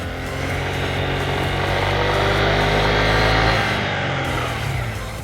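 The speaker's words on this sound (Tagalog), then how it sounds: "Ito po yung tunog ng makina po" A 2018 Yamaha Force 155cc scooter engine runs steadily at idle, a close, even hum that swells slightly and then eases back.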